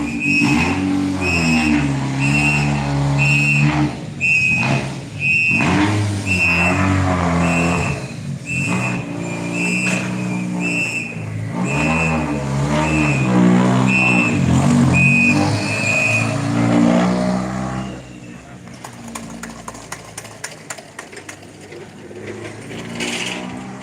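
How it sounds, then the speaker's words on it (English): A WRC rally car rolls out of the Jyväskylä service park at Rally Finland, its engine note loud and close with rising, falling revs and bursts of acceleration. Rattling mechanical clatter follows toward the end. "we have another car ready to go out"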